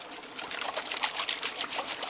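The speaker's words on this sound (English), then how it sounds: "you put this in the water here and you kind of shake this back and forth pretty vigorously" A gold pan shaken vigorously back and forth in backyard water, sloshing in quick rhythmic splashes and trickles, close and steady with no talk.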